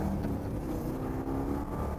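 A 1967 Pontiac GTO runs with a steady, low engine rumble, close and continuous, with no talking.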